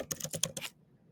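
Quick bursts of computer keyboard typing, about five or six close clicks in under a second, then quiet.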